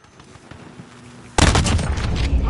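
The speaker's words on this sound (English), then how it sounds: "Cruise missile, go for launch." Cruise missile strike in a PS4 first-person shooter: after a quiet stretch with soft game noise, a sudden loud blast hits and carries on as a heavy, rumbling barrage of explosions and gunfire.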